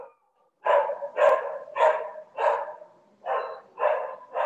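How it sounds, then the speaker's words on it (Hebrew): A dog barks over a video call, about seven evenly spaced barks at moderate loudness with short pauses between them and no talking. "הכלב לא שלי."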